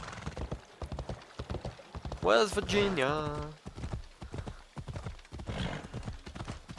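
A horse gallops in Assassin's Creed Odyssey with rapid, rhythmic hoof clops and a loud whinny partway through, while someone talks over the game sound.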